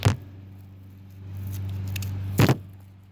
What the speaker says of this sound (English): Okay, I'm just gonna cut one of these open.